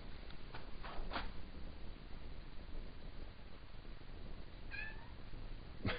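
Faint, thin meows from a cat come twice, a short pair early on and another later, against a constant background hiss.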